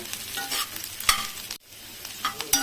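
Ingredients for Nelleru pickle, including tamarind, sizzle and crackle in a hot pan, with a couple of sharp stirring scrapes and brief clicks over a close, steady hiss.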